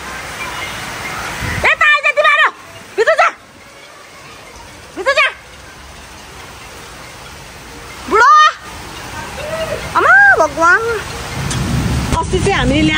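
Steady rain hisses throughout, a constant wash of noise beneath several short bursts of voices talking and calling out.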